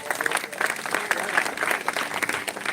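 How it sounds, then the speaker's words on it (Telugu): A church congregation at a united Christmas celebration in Penukonda claps loudly, with brisk dense applause filling the hall and a few faint voices underneath. "చప్పట్లు కొడదామా బిగ్గరగా?"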